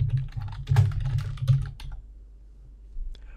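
Fast, close clicking of computer keys as notes are typed into a task's text field in Microsoft Project, a dense burst that trails off into a few scattered taps.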